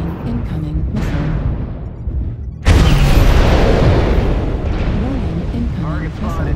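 A missile strikes in a mech combat video game, a sudden loud boom rolling out into a long rumble after calm stretches overlaid by a synthetic cockpit voice announcing warnings.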